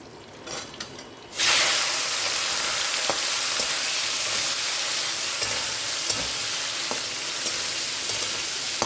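Prawns dropped into hot oil with dried red chilli and radhuni spice for a Bengali bottle gourd and prawn dish. A loud, steady sizzle bursts in after a quiet first second and keeps crackling close up.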